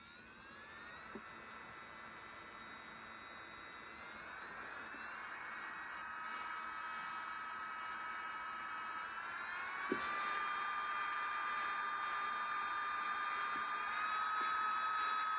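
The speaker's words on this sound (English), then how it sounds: "Now let's take a listen at how the drill sounds." A small electric nail drill whines steadily at high pitch, stepping up in speed a few times, continuous and fairly quiet with no talking.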